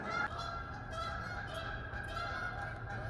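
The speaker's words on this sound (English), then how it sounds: "That was the birds?" Geese honking repeatedly below an abandoned Westinghouse floodgate along a concrete channel, a steady overlapping chorus of calls that sounds moderately distant, over constant rushing water.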